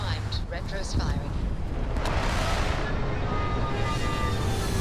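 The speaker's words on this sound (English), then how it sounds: "Landing struts primed. Retro's firing." Spaceship retro rockets roar continuously during a landing in the video game Starfield, a loud, steady rumbling thrust that swells in the middle and holds throughout, with faint talk underneath.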